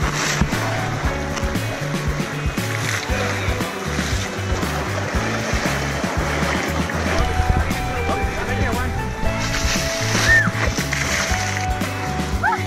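Elephants bathing in water at a sanctuary in Thailand, with constant splashing and sloshing in a busy, steady wash of sound and people talking throughout.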